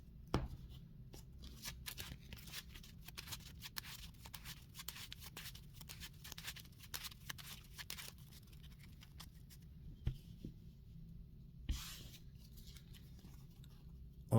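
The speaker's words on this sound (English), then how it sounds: "The set aside cards we will shuffle back into our deck." Arkham Horror playing cards being shuffled back into a deck, heard as faint, close, rapid papery clicks and soft rustling in a quiet room.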